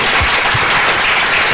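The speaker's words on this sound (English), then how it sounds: "I'd like to request a round of applause for the wonderful time we've had." A loud round of applause from a workshop audience at a theater-in-development event, a steady dense wash of clapping that fills the whole short stretch with no voices over it.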